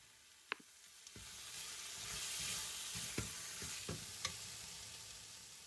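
Chicken pieces and peppers fry in a pan for a Thai green curry, a steady close sizzle broken by occasional scraping and clacking as the food is stirred.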